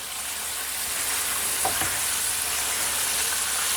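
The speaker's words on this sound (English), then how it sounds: "Let's add some salt to taste. Give it a mix." Salted venison stew stirred in a pot over heat, a steady sizzling hiss throughout with a brief scrape of the spoon near the middle, fairly loud and close, no voices.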